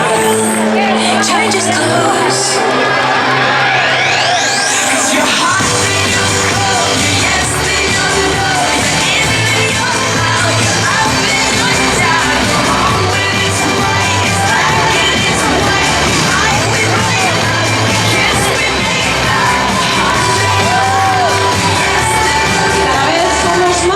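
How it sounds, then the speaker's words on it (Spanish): Spectators in an Ourense plaza cheer, shout and applaud runners finishing the 7th women's 5 km race on International Women's Day. The sound is a loud, continuous roar of crowd noise with children's shouts mixed in. "Los que estamos aquí en la plaza recibiendo entre aplausos a todos estos participantes de la 7ª edición de la carrera de mujer"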